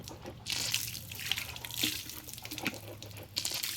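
Tap water runs and splashes into a sink while a child's face is washed, a close, continuous pouring with irregular splashes and drips as hands move through the stream.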